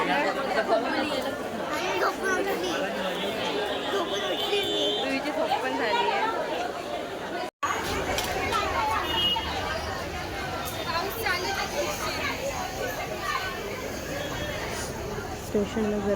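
Dense crowd chatter fills busy Khopoli railway station, a constant murmur of many voices near and far that cuts out for an instant before resuming.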